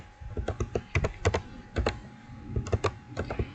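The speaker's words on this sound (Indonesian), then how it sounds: "Di sini kita ketikkan saja IP-nya." Fingers type on a computer keyboard, entering an IP address for an SSH remote-access session, in quick irregular bursts of close, crisp key clicks with short pauses between groups.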